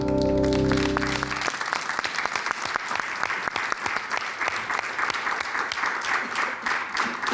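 Audience applause in the studio of a Portuguese afternoon television show, loud sustained clapping from a large crowd following a brief musical sting at the start.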